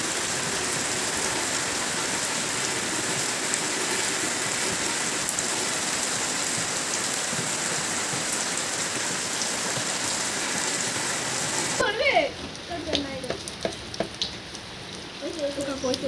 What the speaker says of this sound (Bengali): প্রচণ্ড গতিবেগে বৃষ্টি হচ্ছে